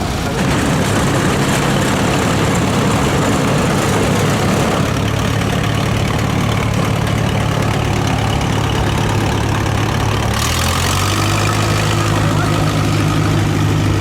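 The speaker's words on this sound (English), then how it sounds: "This is one of Brian's tractors. This is a John Deere Model R." A John Deere Model R tractor engine runs at a thresheree show in Edgerton, Wisconsin, a loud steady low idle that holds throughout and shifts pitch slightly near the end.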